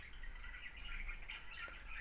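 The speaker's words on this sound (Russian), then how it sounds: "Моя умная птичка." A pet bird squawks and chirps in a steady stream of faint, rough calls, fairly close by, with no voices over it.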